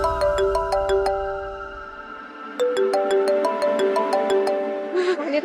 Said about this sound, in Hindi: थानेदार साहब बार-बार माने को फोन कर रहे हैं